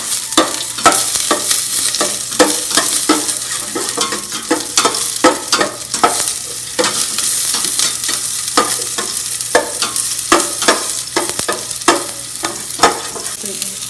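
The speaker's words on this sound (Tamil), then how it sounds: "வெங்காயம் நல்லா வதங்கணுங்க" Onions sauté in a pan over a low flame for banana stem kootu, giving a steady close sizzle with frequent sharp scraping and stirring knocks from a spoon against the pan throughout.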